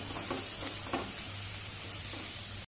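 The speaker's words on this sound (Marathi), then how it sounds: "सगळा कांदा आपण आता छान गुलाबी रंगावरती परतवून घेऊया." Onions sautéing in a pan for a rustic chickpea usal, a steady close sizzle with soft stirring scrapes, then an abrupt cutoff at the end.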